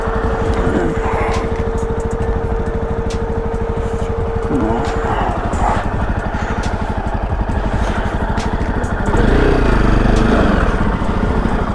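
Motorbike riding on a slippery snowy winter road in Kashmir, its engine running steadily throughout and growing louder near the end, with a steady tone and faint voices in the background.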